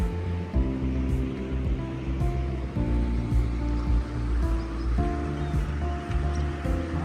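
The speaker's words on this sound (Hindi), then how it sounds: "और ये है गंगा जी नदी" The Ganges rushes in monsoon flood near its confluence with the Son River, giving a continuous, dense roar of moving water with a faint steady hum beneath.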